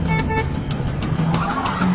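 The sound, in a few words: car approaching from behind honking its horn loudly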